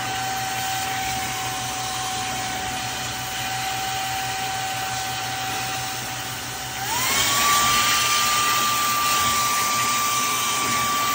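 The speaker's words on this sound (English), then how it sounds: "Let's vacuum." A vacuum cleaner runs continuously while cleaning debris from a gap in a luxury vinyl plank floor, a steady whining drone close by whose pitch rises and grows louder partway through as the suction changes.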